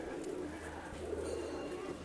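Doves and pigeons cooing steadily at the Boudhanath stupa in Kathmandu, Nepal, where people feed the birds; a soft continuous murmur of many birds with faint talk mixed in.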